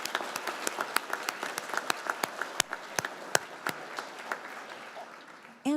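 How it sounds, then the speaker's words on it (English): At the 2024 KAMS/AMS completion ceremony, an audience claps for faculty and university staff: a thin, scattered patter of individual claps at moderate distance, fading slightly before a sudden louder sound at the very end. "Let's give our faculty members and university staff members a round of applause"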